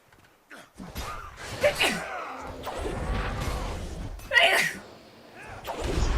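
Someone gives a sharp, breathy sneeze during a tabletop and video game session, with a second burst a few seconds later, mixed with nearby talk and room noise.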